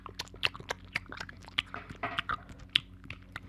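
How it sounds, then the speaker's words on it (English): Gum being chewed loudly right at the mouth, with wet, smacking bites and squishy clicks in an irregular rhythm and no talking. "Like chewing a piece of gum."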